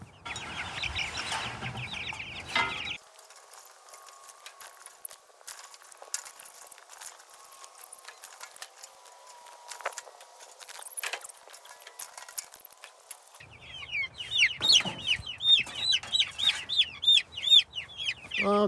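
Baby chicks being turned out into a new space, bursts of high chirping and peeping at the start and again near the end, with a quieter stretch of faint rustling and scattered small sounds between.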